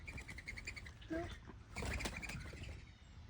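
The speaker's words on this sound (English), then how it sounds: "The morning doves are getting a little crazy." Mourning doves at a bird sanctuary give a quiet run of short repeated calls, broken midway by a burst of wing flapping and rustling, all faint and somewhat distant.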